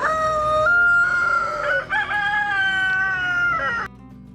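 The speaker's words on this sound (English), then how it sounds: "But the real stars of Fair Oaks are the chickens." A rooster crows loudly and close, one long drawn-out cock-a-doodle-doo in several rising and falling segments, ending abruptly.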